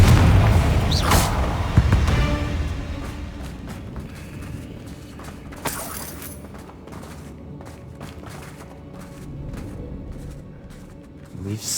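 A Confringo fire spell detonates in Hogwarts Legacy with a deep booming blast near the start, its rumble trailing off into quieter game ambience and a few lighter thuds.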